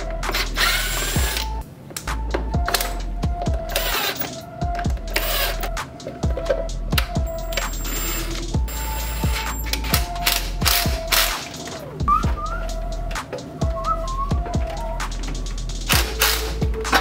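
Ratchet clicks in repeated short bursts while bolts are tightened down during an aFe intake install on a tuned Duramax diesel Colorado ZR2, close and fairly loud with mechanical clinks between strokes.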